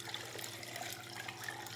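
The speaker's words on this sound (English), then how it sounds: "I'm just gonna pour the cocktail in." Cocktail poured from a large bottle into a very big cocktail shaker half filled with ice, a soft, steady liquid splash and trickle that continues at close range for under two seconds, with no talking.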